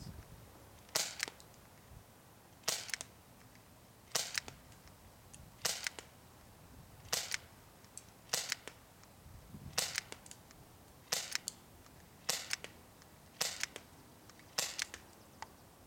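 Sharp snapping shots from a Sig SP2022 CO2 airsoft pistol ring out one at a time at a steady pace, about a dozen in all, each with a brief crack of BBs hitting a lawn chair, over quiet surroundings.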